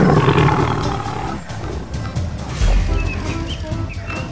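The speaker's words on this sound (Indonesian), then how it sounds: "Wow, ada macan tutul." A leopard gives a loud, rough, drawn-out roar that rises and falls with some growling texture, filling a noisy background.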